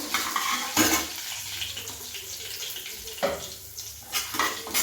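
Something cooking in a pan in a home kitchen, with a soft continuous sizzle broken by louder clattering stir and scrape bursts of utensil against pan, fairly close, no talking.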